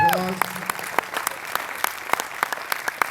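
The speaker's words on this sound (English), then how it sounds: "Give him a big round of applause." Audience applause in a room at a college signing night, steady clapping from many hands with scattered sharp claps, following a brief voice at the start.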